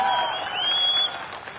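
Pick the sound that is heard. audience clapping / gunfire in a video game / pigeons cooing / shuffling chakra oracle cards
audience clapping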